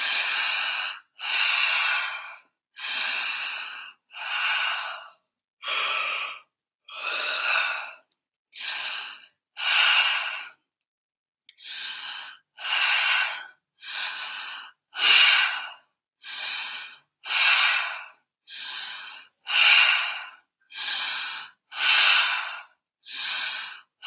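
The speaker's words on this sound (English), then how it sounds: "So 20 inhales and exhales through the mouth." A person does a rhythmic breathing exercise, taking about twenty forceful, rapid inhales and exhales through the mouth, each breath loud, close and airy, with a brief pause midway.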